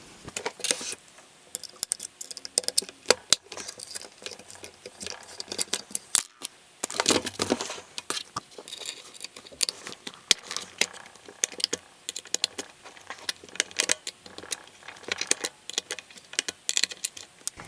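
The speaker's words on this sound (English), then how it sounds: "Alright, so we went ahead and got the screws removed." Screws come out of a Magpul Zhukov rifle handguard with a small tool. Close, sharp metallic clicks and ticks arrive in irregular bursts, with brief pauses between them, and no voices.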